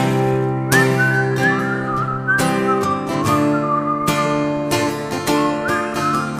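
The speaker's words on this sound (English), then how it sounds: "Let's see if you got some whistling skills." A crowd at a Purim celebration whistles a sustained melody together along with a live band playing a song, the whistled tune gliding above steady accompaniment with no talking.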